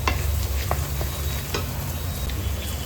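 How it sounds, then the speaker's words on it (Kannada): Chopped onions frying in a pan for a spicy chicken liver fry give a steady, close sizzle, with a few soft clicks of stirring scattered through and no talking. "ಈರುಳ್ಳಿ ಈ ಹದದಲ್ಲಿ ಫ್ರೈ ಆಗುವಾಗ"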